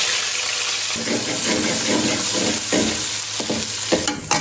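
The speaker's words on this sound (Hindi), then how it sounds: "अब जाएगा इसमें तड़के के लिए प्याज।" Chopped onions sizzle in hot oil as a tempering for chicken sajji, a loud, steady frying hiss with stirring scrapes throughout and no talking.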